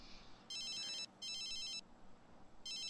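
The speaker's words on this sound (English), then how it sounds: "Answer the fucking phone!" An electronic telephone ring from The Sims 3 life-simulation video game, three bright repeated ringing bursts of about half a second each with short gaps, loud and clear over a faint background, with no talking.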